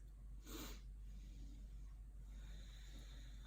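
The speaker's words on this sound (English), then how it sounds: "Don't mind me sniffling over here, I have allergies." A single short sniff through the nose, close and soft, against a quiet steady background hum.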